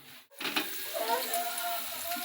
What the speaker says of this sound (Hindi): बस अब इसको मैं इतना पकाऊंगी जब तक ये आलू सॉफ्ट नहीं हो जाते